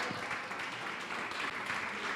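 A church congregation claps together in a steady, dense wash of applause, moderately distant and filling the whole room without a break.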